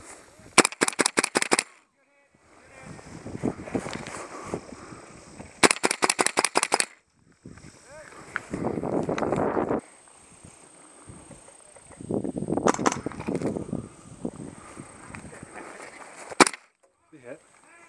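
A KWA LM4 airsoft gun fired at an indoor combat arena, heard as rapid bursts of sharp, evenly spaced clicking shots, several volleys separated by pauses, with people shouting and talking in between.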